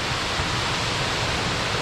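A steady, dense roar of a waterfall, loud and continuous with no pauses, with no talking over it.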